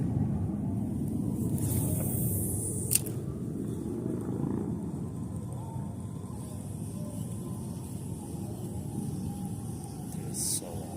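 A steady, low rumbling roar of many Harley Davidson motorcycles passing on a distant road, heard from a riverside spot over wind noise, continuous and unbroken throughout.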